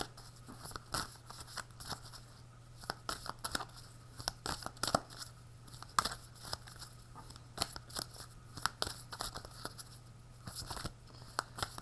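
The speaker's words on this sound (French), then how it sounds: "j'arrive plus à mélanger les cartes" Tarot cards are shuffled by hand in repeated crisp riffles and slaps, close and fairly loud, coming in irregular bursts over a faint steady hum.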